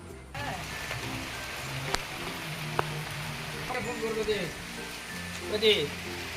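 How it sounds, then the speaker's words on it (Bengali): Heavy rain pours during a storm in a steady, dense hiss, with voices talking over it and a few sharp knocks standing out. "তো তার জন্য দেখো প্রচুর ঝড় বৃষ্টি হচ্ছে।"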